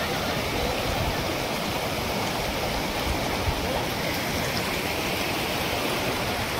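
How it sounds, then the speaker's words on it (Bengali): Clear mountain stream water runs down a hillside on the road between Mangan and Lachen in North Sikkim, a dense, steady rushing wash with no breaks, close and loud. "পাহাড় থেকে জলটা নামছে দেখো, অসাধারণ দেখতে লাগছে।"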